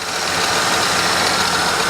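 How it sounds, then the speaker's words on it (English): A Holden VT Commodore car engine idling, a steady, close, loud rumble with an even mechanical chatter and no change in revs over the two seconds. "the engine, now I've had it running,"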